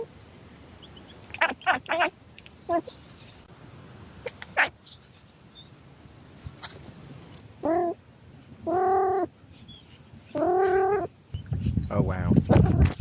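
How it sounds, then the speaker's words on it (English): A cat meows several times in drawn-out, wavering calls indoors, with a few short sharp sounds first and some noise near the end. "I love kitty noises."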